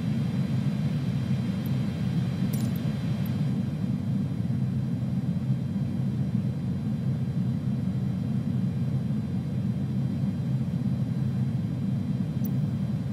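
Airbus A310 taking off from runway 01 in Microsoft Flight Simulator 2020, a steady loud low engine roar that holds evenly for the whole stretch with no talk over it.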